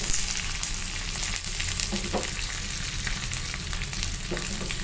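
Curry leaves fry in hot oil for a gongura pickle tempering, producing a loud, dense crackling sizzle that holds steady, with a few stir strokes.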